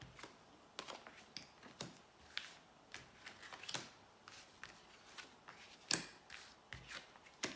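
Tarot cards are shuffled by hand before a thirteen-card reading. Soft, quiet riffles and taps come at an irregular pace, close by, with no talking.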